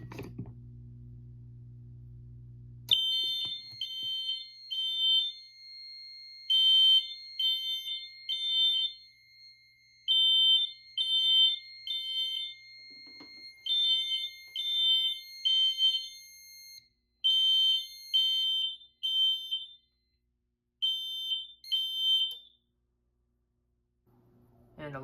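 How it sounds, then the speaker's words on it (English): Gentex GX93 mini horn fire alarm signals on a Silent Knight 5700 system sound in repeated groups of three sharp, loud, electronic honks, with short gaps between groups. A low hum comes first, and the horn then stops abruptly. "And alarms are silenced."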